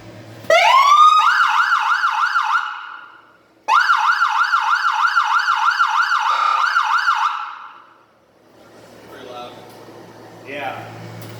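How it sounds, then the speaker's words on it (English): A UPR race siren on an Ultra 4 side-by-side wails loudly in two long bursts of rapid rising and falling tone, each cutting off sharply, before quieter background noise and distant voices follow. "Let's turn that on and show them the siren."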